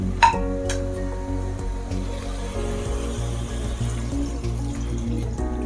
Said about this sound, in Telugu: ఇది వేసి కొంచెం వాటర్ వేసుకుందాము.